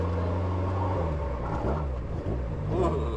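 A Toyota AE86 drives through slow, stop-and-go traffic, its engine giving a steady low rumble with harmonic drone that shifts pitch slightly as revs change, heard from inside the cabin beneath faint background noise.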